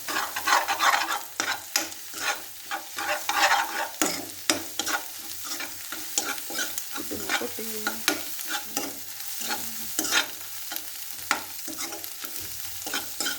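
Egg fry sizzles in oil in a pan, with a spatula stirring and scraping steadily throughout; close, continuous frying noise with repeated clatters and no talking.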